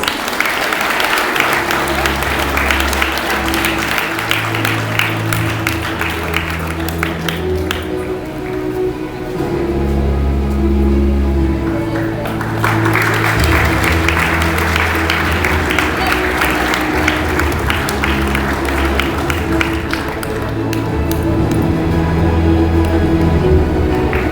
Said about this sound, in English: Can we have a thundering round of applause?